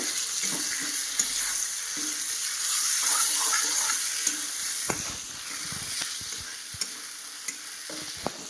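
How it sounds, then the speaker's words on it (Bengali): Potato and pointed gourd pieces frying in a spice paste in a pan, a steady close sizzle with scraping stirs and light utensil taps throughout, no voices. "আমার ভেজে রাখা আলু আর পটলটা দিয়ে দেবো এর সঙ্গে এটার সঙ্গে আবার ভাজতে থাকবো"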